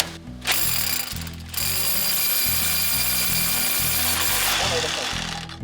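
A drill bores into a mortar joint in the wall of a church, hammering in a loud, rapid, rhythmic pulse that runs nearly the whole time after a brief pause near the start.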